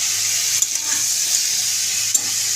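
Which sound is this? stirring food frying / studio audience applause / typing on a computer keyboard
stirring food frying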